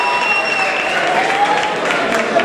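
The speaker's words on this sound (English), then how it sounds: "Another round of applause for Kitty Cahill from Tipperary." Steady crowd applause fills a boxing event at the ABA Stadium, a dense, continuous clapping roar at fairly close range with faint whistles or tones running underneath.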